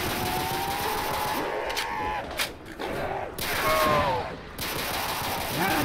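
Gunfire in a Call of Duty zombies custom map: bursts of automatic shots and single reports over a dense game background, with short gaps between volleys and a heavier stretch near the end.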